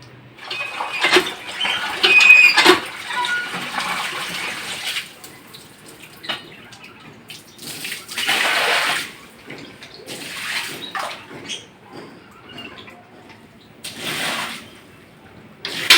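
Water splashes and sloshes in irregular bursts as a rainy-day courtyard is washed, with pouring and scrubbing surges close by amid quieter dripping gaps.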